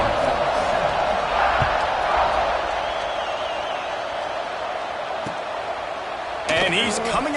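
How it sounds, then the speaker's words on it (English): A football stadium crowd at an Alabama versus Jacksonville State game keeps up a loud, continuous roar after a score, with a commentator talking over it and a brief sharper burst near the end. "this crowd is buzzing after that last score"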